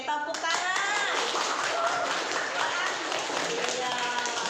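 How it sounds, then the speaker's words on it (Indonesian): Hands clap together in a classroom lesson, a steady burst of clapping that lasts several seconds and is mixed with voices. "Oke, tepuk tangan."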